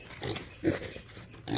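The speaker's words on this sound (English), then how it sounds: "Look at you. Big pig." A big, mud-caked pig grunts in a run of short, throaty bursts close by, loud and uneven, with brief pauses between snorts.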